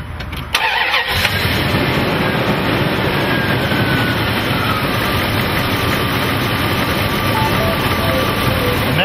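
A car engine fitted with a DR365 HHO converter cranks briefly and catches, then settles into a loud, steady running rumble that continues to the end.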